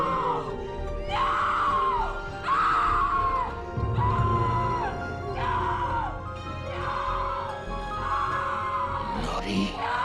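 A woman screams in terror in a horror TV episode, giving repeated long wailing cries in a steady rhythm over a dark rumbling music bed.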